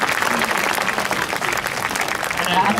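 Crowd of zoo visitors applauding at an elephant show at Whipsnade Zoo, a dense, steady wash of clapping that holds loudly throughout with no break.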